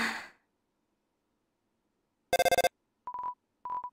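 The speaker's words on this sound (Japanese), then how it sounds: "え、電話" A phone ringing in the Undertale video game: after a brief breathy voice sound, a quick burst of electronic tone pulses plays, followed by two short clean beeping rings, crisp and isolated against silence.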